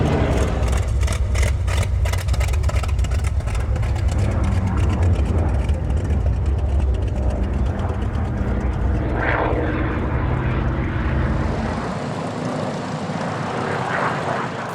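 Grumman Bearcat piston-engine carrier-based fighter running its engine, a loud steady propeller drone that holds throughout before its low rumble drops away near the end.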